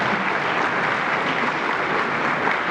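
Audience clapping at an Ashtavadhana literary performance, a dense steady burst of many hands applauding from start to finish, loud and close, with no talk over it.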